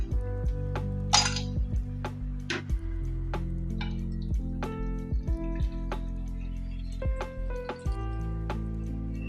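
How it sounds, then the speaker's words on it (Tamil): Ice cubes drop into a glass of tomato juice mixed with lemon juice, giving a series of sharp, ringing clinks and knocks at an irregular pace, close and clear with no talking. "இப்போ ஐஸ் கூப் சேர்த்துக்கலாம்"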